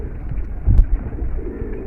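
A high flyer pigeon, a female, coos once in a soft rolling burst, close and fairly loud, with a low hum of background noise around it and no talking.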